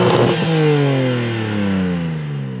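A 2025 BMW M4 Competition exhaust heard from outside, a loud close rev that flares sharply then drops away in a falling, burbling engine note over about two seconds.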